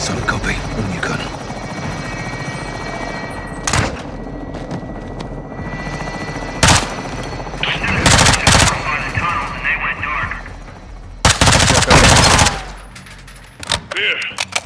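Gunfire in the video game Modern Warfare 2: several loud, sharp bursts of shots break through a steady helicopter-like rotor drone, with a sustained volley near the end and a few isolated shots after it.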